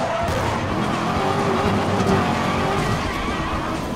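Racing video game car engine roaring loud and close with tire squeal and skidding layered over it, a dense continuous burst with no talking.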